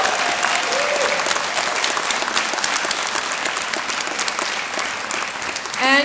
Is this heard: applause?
yes